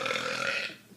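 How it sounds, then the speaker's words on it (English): A single burp, close and fairly loud, lasts under a second and then trails off into quiet. "that burp worked"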